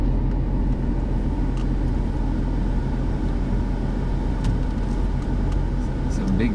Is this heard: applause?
no